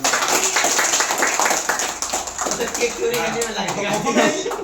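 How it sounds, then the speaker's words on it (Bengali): Guests at a birthday celebration applaud at length, the steady patter of many hands rising and falling. A voice speaks over the clapping near the end. "আমি সবাইকে তালি দেওয়া।"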